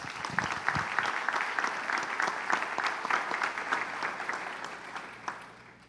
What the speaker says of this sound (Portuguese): Vamos recebê-lo também, aplaudindo o nome de Jesus.